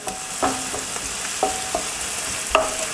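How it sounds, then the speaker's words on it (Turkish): Onions sizzle steadily in a hot pan over high heat while a utensil stirs, scraping and clinking against the pan a few times. "Soğanlarımız güzelce 1-2 dakika kavrulsun."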